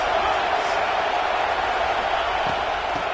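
A college football stadium crowd roars in a dense, steady wash of noise that holds at full loudness the whole time, with no single voice standing out.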